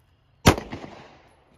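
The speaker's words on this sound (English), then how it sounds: "Draw and fire one to the body." A single handgun shot fired at a target during a shooting class: one sharp, loud crack up close with a short echoing tail that fades within about a second.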